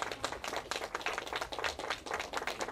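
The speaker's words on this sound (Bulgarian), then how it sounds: "Моля ви много аплодисменти" An audience at an eco-car marathon gives steady, dense applause, many hands clapping close and continuous from start to end, no voices over it.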